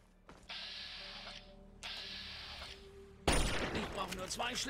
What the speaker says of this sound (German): Zwei Schläge und ein Schuss.